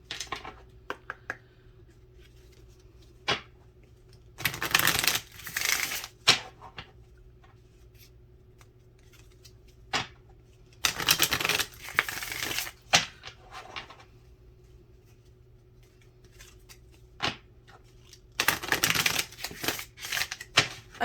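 Whispers of Healing oracle cards shuffled in three distinct bursts of riffling, separated by quiet stretches with scattered taps and card handling, close and fairly soft with no talking.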